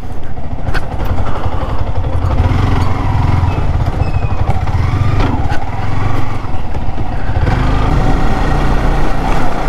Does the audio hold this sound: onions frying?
no